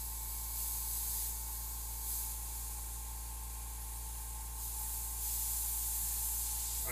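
An airbrush gun sprays paint in a spray booth for custom pink fire and skull artwork, giving a steady, continuous hiss that holds nearly unchanged throughout with slight swells, close and alone without talk.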